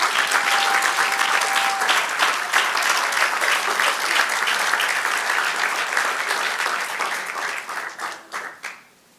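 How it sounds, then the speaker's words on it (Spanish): A church congregation applauds the Lord during a Spanish-language sermon, a loud, thick wash of many hands clapping that holds steady and then thins into a few scattered claps as it dies away. "Da un aplauso al Señor"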